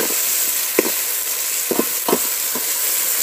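Chopped tomatoes frying in hot oil as the base of a home-style chicken gravy, with a steady sizzle and a few brief stirring scrapes of a spoon in the pan, and no talking.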